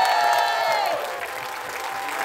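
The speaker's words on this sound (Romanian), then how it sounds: "Haideți să o aplaudăm!" Applause at a Romanian memorial event, steady crowd clapping with a sustained musical tone ringing over it and a cheering audience.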